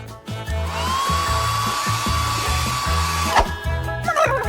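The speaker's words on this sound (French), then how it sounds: "Tiens, le sèche-cheveux, ça va être beaucoup plus pratique." A hair dryer blows in a kitchen while a cake is being prepared, its whine rising and then holding steady for about three seconds before cutting off, over rhythmic thumping background music.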